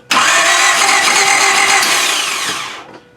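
A 1995 Honda Civic engine cranks continuously for nearly three seconds, a loud, steady, whirring starter churn that never catches and fire, cutting off abruptly.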